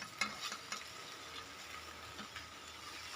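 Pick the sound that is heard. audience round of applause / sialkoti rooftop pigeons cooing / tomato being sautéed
tomato being sautéed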